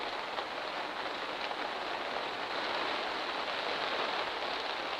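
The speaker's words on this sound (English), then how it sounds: "There's nothing more relaxing than coming out in December morning in the rain, in your allotment garden" Steady rain falls on an allotment garden on a December morning, a soft, even hiss of drops with no breaks or voices, moderately quiet and constant throughout.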